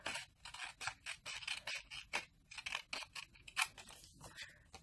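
Scissors cutting paper along drawn lines for a Minnie Mouse flip photo album, a quick series of crisp snips and slicing rasps close by, evenly paced.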